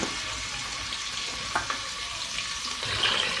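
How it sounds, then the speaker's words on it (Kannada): Mutton goes into hot oil in a pan for biryani and fries with a steady, close sizzling hiss, broken by a couple of brief crackles and stirring sounds. "ಎಣ್ಣೆ ಕಾದ ನಂತರ ಮಟನ್ ಹಾಕೊಳ್ಳೋಣ"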